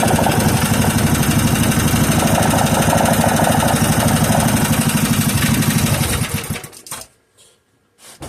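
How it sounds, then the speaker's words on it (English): A 3 hp Briggs and Stratton small engine idles steadily with a fast, even putter at close range, then cuts out near the end, leaving near silence and a brief rustle. "I adjusted the idle speed and the air fuel mixture, and she just putts real nicely"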